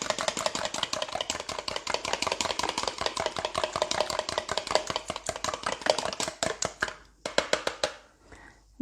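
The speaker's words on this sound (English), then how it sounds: "whisk that up" An egg beaten with milk, salt, pepper and garlic for a quiche Lorraine filling: fast, even tapping clicks of the whisk against the bowl, close and steady for about seven seconds, then a few slower strokes before it stops.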